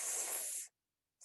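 A voice imitates a hissing S sound: one loud, breathy hiss lasting under a second, then a pause and the brief start of another hiss.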